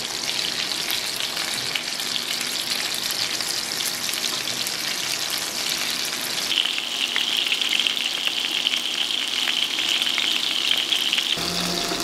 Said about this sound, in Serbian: Nakon 3 minuta okrećemo ih na drugu stranu i isto pržimo